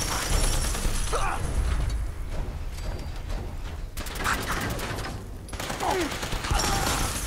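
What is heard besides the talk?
gunfire in the video game Fallout 4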